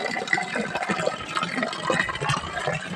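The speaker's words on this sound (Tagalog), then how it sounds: "Yan yung mga agos ng tubig." Water flowing steadily along a small mountain creek in the Philippine hills, a continuous close, broadband rush and babble with no voices.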